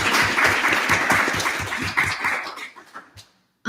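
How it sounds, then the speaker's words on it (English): Student government senate members clap together in a room, a busy round of applause with some cheering that fades out over the last second. "So I want to give ourselves a round of applause."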